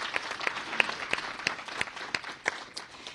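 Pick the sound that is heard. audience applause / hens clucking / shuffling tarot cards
audience applause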